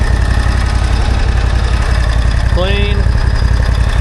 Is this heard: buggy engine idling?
yes